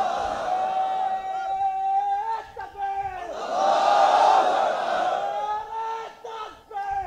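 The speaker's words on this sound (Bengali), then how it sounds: "নারায়ে তাকবীর দাও না ভাইয়া, বরকত আসুক, দাও নারায়ে তাকবীর।" Crowd at an Islamic sermon answering a Nara-e-Takbir call: many voices roar together in a loud sustained chant that swells, fades and rises again, with a lead voice heard between the responses.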